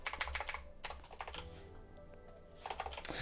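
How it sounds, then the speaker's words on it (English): Fast typing rattles on a computer keyboard in close, dense bursts of clicking keys, with a short pause in the middle before the typing resumes. "Of course I need to kind of like spam the keyboard"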